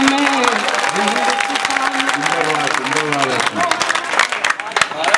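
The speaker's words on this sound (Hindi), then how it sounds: "ताली आपने गलत वक्त पर बजा दी" An audience claps during a Hindi-Urdu poetry recital in Sanawad, its broad patter running under a chanting, sing-song voice reciting verse, the clapping growing more scattered and uneven toward the end.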